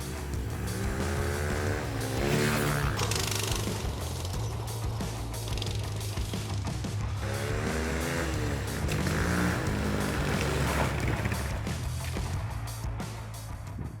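A Scout ATV motorbike being ridden on a plain road, a continuous close engine drone with rising and falling revs as it accelerates and manoeuvres, loud and steady throughout.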